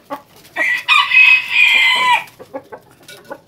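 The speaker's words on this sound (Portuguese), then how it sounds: "Esse é o galo mexicano." A Mexican rooster lets out one loud, close crow lasting about a second and a half. Soft clucks and small scratchy sounds come just before and after it.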